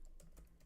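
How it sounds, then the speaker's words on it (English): A computer keyboard is typed on with three or four soft, quick key clicks, faint and close, over a quiet room hum with no speech. "Sorry, I'm just typing it and then I'm gonna pin it."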